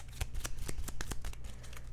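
Playing cards being riffle-shuffled for a tabletop campaign board game, a quick run of crisp, evenly spaced flicking snaps close up, continuous for about two seconds with no voices.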